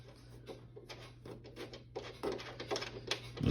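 Metal screw being threaded into a universal TV wall mount, giving soft scratchy grinding turns in short irregular bursts with small clicks, close and quiet over a steady low hum.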